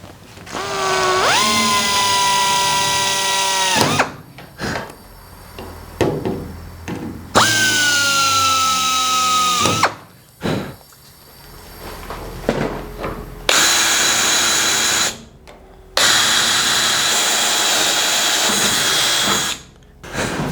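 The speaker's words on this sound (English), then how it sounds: "Alright, everything's match drilled." Power drill match-drilling aluminum canopy parts on an RV-7A homebuilt aircraft, running in several long bursts of steady whine with short pauses and clattering handling between them, loud and close.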